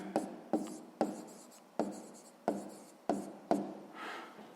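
Pen strokes on paper while working a sixth-grade maths exercise, about seven short scratchy bursts at a steady pace, close and clear, with a softer rub at the end.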